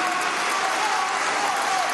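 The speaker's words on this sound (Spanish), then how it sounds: "Un aplauso." A crowd applauds a journalist at a public event in Venezuela, a continuous dense wash of clapping that stays even and loud throughout with no talk over it.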